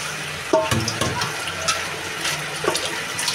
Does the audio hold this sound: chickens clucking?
no